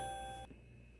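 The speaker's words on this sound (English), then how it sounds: "That was my alarm. It went off for my medicine." An alarm set as a medicine reminder beeps in a steady electronic tone for about half a second and then cuts off, leaving quiet room tone.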